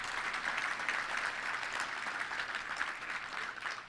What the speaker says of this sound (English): Let's give all of our volunteers a great round of applause.